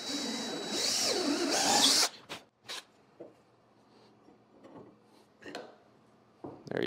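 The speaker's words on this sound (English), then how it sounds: "I also try to drill kind of slow" A power drill bores slowly into wood clamped in a pipe clamp, a loud steady whine lasting about two seconds before stopping, followed by a few brief knocks and handling sounds.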